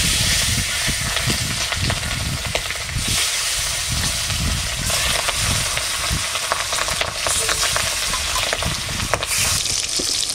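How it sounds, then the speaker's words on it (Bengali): Fish hisses and crackles loudly in hot oil, a dense, continuous sizzle with bursts of spattering throughout. "তেল গরম হয়ে গেছে, মাছটা আমি এখন ভেজে নেব।"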